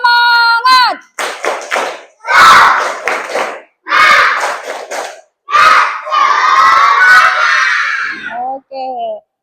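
Classroom of children doing a spirit clap chant, bursts of rhythmic clapping and loud group shouting in several short waves, ending with a brief spoken call.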